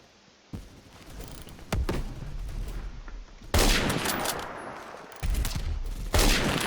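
Gunfire rings out in a Roblox shooter resembling Call of Duty, with repeated close bursts of automatic rifle fire and sharp shots in quick succession, loud and with no talk over it.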